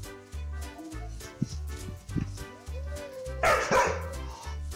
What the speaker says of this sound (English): Bark all you want